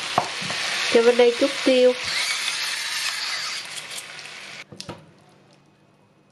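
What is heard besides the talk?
stir-frying meat and tomatoes in a pan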